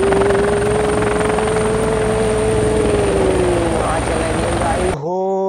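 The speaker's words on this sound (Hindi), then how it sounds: "चलो हेलीकॉप्टर को उड़ाते हैं गाइस।" A toy helicopter whirs with a loud, constant buzzing drone that holds steady for about five seconds before cutting off abruptly.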